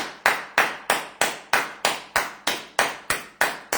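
Steady, evenly spaced claps ring out for two honoured lawyers, about a dozen sharp strikes at a brisk regular beat, each with a short decaying tail and no talking in between.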